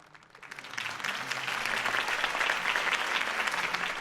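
In Batman: The Telltale Series, a crowd applauds a campaign speech steadily, a dense wash of clapping that swells in over the first second and holds strong without any talk.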